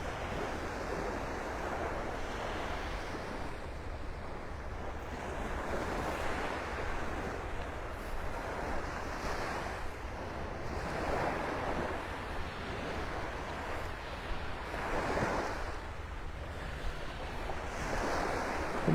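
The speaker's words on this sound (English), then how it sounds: "So this is the middle of Seagate Beach, about the middle, this jetty." Steady wind and surf wash beside a beach jetty on Seagate Beach, North Naples, Florida, with soft rolling waves swelling every few seconds under constant microphone wind noise.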